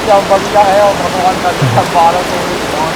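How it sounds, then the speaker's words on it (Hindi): Heavy rain hisses steadily outdoors as a dense, even wash, while someone speaks over it. "बारिश हो रही है महाराज जी, और काफी तेज बारिश है"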